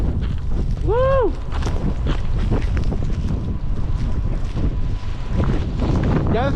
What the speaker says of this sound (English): the wind is picking up dramatically